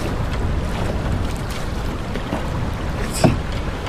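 Steady wind rushes across open water on a cold day of about 6 degrees, a constant broadband roar with a brief gust or knock near the end.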